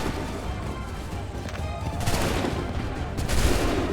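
Musket volleys ring out in Assassin's Creed III, crackling bursts of massed gunfire that swell in two waves over a battlefield din, with shouting voices underneath.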